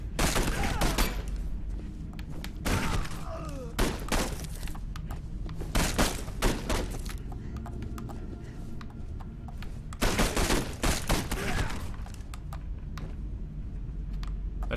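Bursts of gunfire from a weapon in the video game Condemned 2: Bloodshot: loud clustered rapid shots arriving in several separate volleys with short gaps between them.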